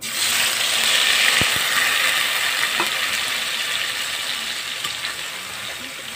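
Ginger, onion, garlic, turmeric and chili paste frying in a pan for a Bengali lote fish dish, a loud, continuous hissing sizzle with occasional utensil clicks and scrapes.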